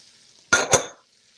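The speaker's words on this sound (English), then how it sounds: "I'll drop these onions in here." Half an onion dropped into a hot pan for shrimp chowder, landing with two quick close sizzling bursts that fade into a soft hiss within about half a second.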